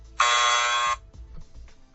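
A loud, harsh wrong-answer buzzer blares for almost a second, then cuts off, leaving faint low background noise.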